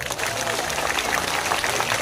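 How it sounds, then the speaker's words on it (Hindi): A crowd claps at a BJP political rally in Madhya Pradesh addressed by Jyotiraditya Scindia. The applause is dense, steady and loud, filling the whole moment without a break. "अरे सही है तो अच्छे से तालियां बजाओ।"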